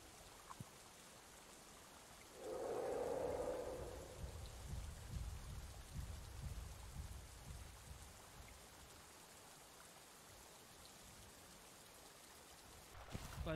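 Steady rain pours down in The Isle survival game, a dense, even hiss that fills the whole stretch, briefly joined early on by a louder swell with no voices over it.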